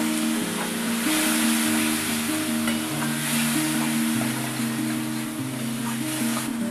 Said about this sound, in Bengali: এবার সমস্ত মশলাগুলোকে আমি ভালো করে কষিয়ে নেব